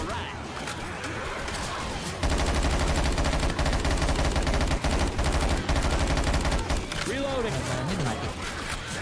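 Rapid automatic gunfire in Left 4 Dead 2, dense bursts of shots hammering almost continuously for several seconds, loud and close, with a voice talking over parts of it.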